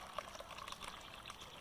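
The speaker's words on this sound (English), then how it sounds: "All we're going to do is we're going to pour some water in here" Water poured from a bottle into a cup makes a faint, steady trickle and splash that runs for the whole moment, with no voices.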